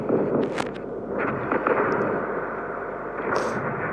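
Tank cannon shots in the mobile game World of Tanks Blitz, a few sharp booming reports over steady rumbling engine and battle noise, fairly loud and without talk.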